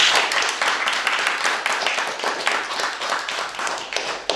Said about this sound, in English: Quick round of applause for the engineer.